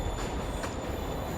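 A train in the Spider-Man video game, a loud, dense rumble of rolling wheels and rail noise filling the short moment with no voices.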